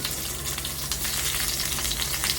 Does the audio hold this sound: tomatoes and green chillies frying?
yes